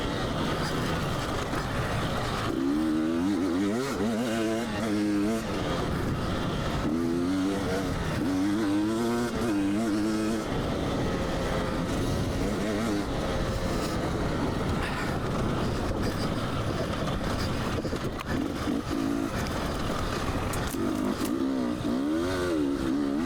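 A 2022 KTM 300 XC-W two-stroke dirt bike is ridden off road, its engine buzzing and revving in repeated rising bursts over a steady, loud rumble of wind and terrain noise.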